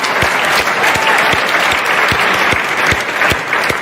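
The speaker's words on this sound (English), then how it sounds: "Oh, more round of applause." Dense, steady audience applause at the EA Sports FC 24 reveal livestream event, loud and sustained throughout with a few sharper claps standing out, and no voices over it.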